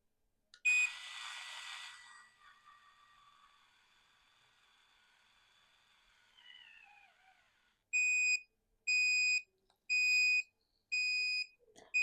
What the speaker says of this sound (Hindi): मुझे वापस से बीप करना जो स्टार्ट हो रहा है ना, वो फिर बंद ही नहीं हो रहा है, फिर कंटिन्यूअसली बीप हो रहा है ये।